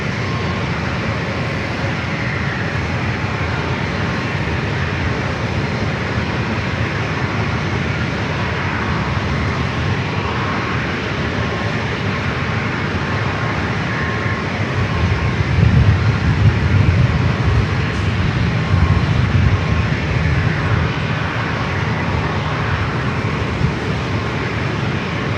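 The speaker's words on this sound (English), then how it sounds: "We got that Alaska UNCF 737-900ER number 2 for takeoff." An Alaska Airlines Boeing 737-900ER takes off at San Diego airport, its jet engines a steady, loud broadband roar that swells slightly toward the middle, heard from a distance with no voices.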